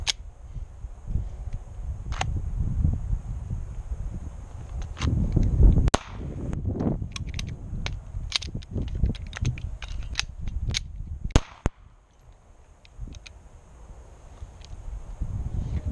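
Pistol shots at CCW shooting practice, with sharp cracks coming singly and in quick strings over outdoor wind noise, some sounding distant, and a few clicks and handling sounds between them.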